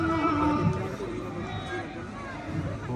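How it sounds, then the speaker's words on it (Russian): Decorated Yakut horses at the Ysyakh festival in Sakha give a short neigh amid the crowd's babble and voices, with outdoor festival hubbub throughout. "Лошади уже стоят,"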